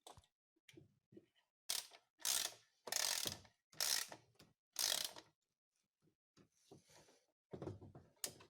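A hose clamp on the EGR hose of a Skoda Superb engine (CBBB) is tightened with a ratchet in a series of close, quick clicking bursts separated by short pauses.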